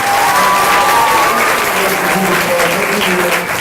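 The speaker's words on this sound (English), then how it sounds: "How about another round of applause" Audience at a school graduation ceremony gives a loud, sustained round of applause, dense clapping continuing throughout without a break.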